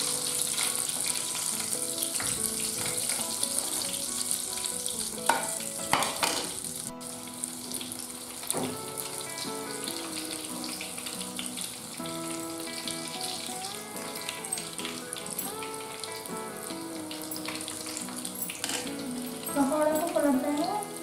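Aloo bathua pakoras frying in hot oil in a home kitchen, giving a steady, continuous sizzle and crackle that runs throughout over soft background music.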